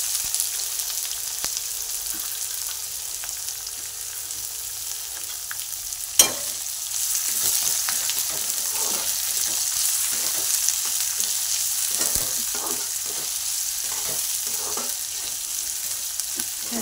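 Chopped onion sizzles steadily in hot oil with peanuts and chilies in a pan for upma, a continuous close frying hiss with small stirring clicks and one sharp knock partway through.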